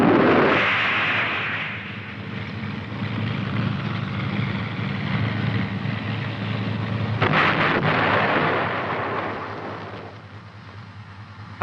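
The main gun of an M551 Sheridan light tank fires, a heavy boom that rolls and rumbles for several seconds, followed by a second sharp blast and long fading reverberation.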